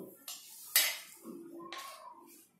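Prawns being tossed with a flour coating in a bowl: a few separate clinks and scrapes of a spoon against the bowl, close and fairly sharp, spaced irregularly over a couple of seconds.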